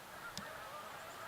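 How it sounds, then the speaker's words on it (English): Geese honk outside during a Sunday church service, one short faint call standing out over a quiet room hum, with no voices. "there are gaggles of geese who are greeting us right now"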